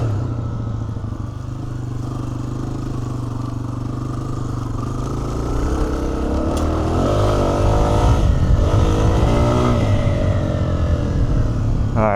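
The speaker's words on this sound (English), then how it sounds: "Second gear into third. That extra displacement just letting you really pull hard even out of third gear." Honda CRF300F dirt bike accelerating hard across the desert, engine note climbing and dropping as it shifts from second into third, loud and steady throughout with no talk.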